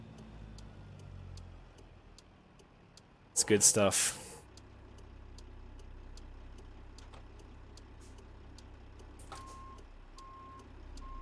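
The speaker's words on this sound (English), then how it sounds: "Got gear shift sounds too, air sounds, all from the real Kenworth W900." A Kenworth W900 in a truck simulator game gives a loud burst of air release over a low steady engine drone, with faint reversing-style beeps ticking throughout and someone speaking briefly.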